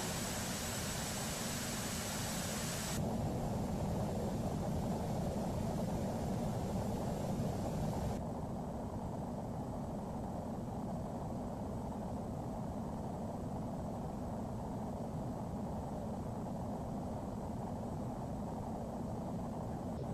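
A Boeing 777 airliner cabin of Biman Bangladesh Airlines during landing: a steady, loud broadband roar fills the whole stretch, somewhat stronger in the first several seconds before settling into a constant drone.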